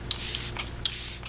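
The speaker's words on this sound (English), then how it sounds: "I'm gonna go ahead and do the first layer of setting spray real quick." Makeup setting spray hisses close up in two short bursts about three-quarters of a second apart, each a soft airy spritz.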